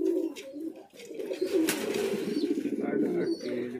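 Fancy pigeons in a breeding loft coo in low, throaty, rolling calls, close and overlapping, with a faint bit of background murmur.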